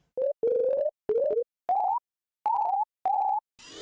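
A video game phone gives a series of short electronic beeping tones, seven clipped notes with slightly rising pitch separated by brief silences, clean and loud, followed by a burst of noise at the end.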